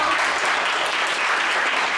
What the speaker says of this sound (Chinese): 我们给他们一个掌声好不好？